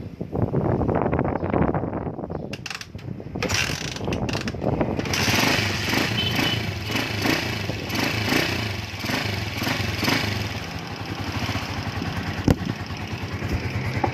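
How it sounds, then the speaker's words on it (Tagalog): An electric motor being tested during troubleshooting runs loudly and continuously with a rough, buzzing drone and wind-like noise, staying steady throughout. "umaandar na yung motor"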